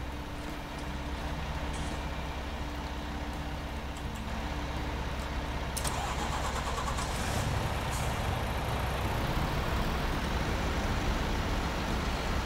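A truck engine drones steadily in the farming game Landwirtschafts-Simulator 19 on wet ground, a loud continuous rumble with a hiss partway through and no talk over it.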